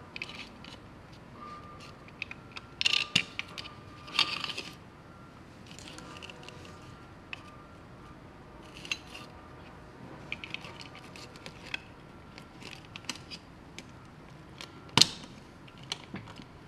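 A pile of 606 ball bearings being handled, producing light scattered metallic clicks and rattles, mostly soft with a few sharper taps, no talking.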